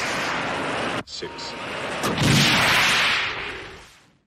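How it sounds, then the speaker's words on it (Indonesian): A plane explodes in a film scene: an abrupt cut, then a deep roaring blast that swells loud and broad before fading away over a few seconds. "Dan Daryl mulai menghitung mundur saat pesawat akan meledak"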